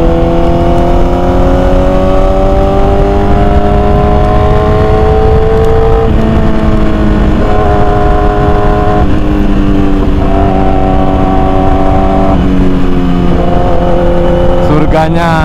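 Big motorcycles ride at the BSD circuit, a loud, close steady engine drone heard from on board, with pitch shifting up and down through gear changes and wind noise constant throughout.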